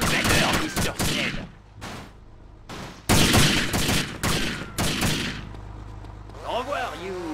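Gunfire in the Grand Theft Auto Vice City game comes as sharp, loud bursts of rapid shots broken by short gaps, up close over a low rumbling background, with voices shouting between volleys.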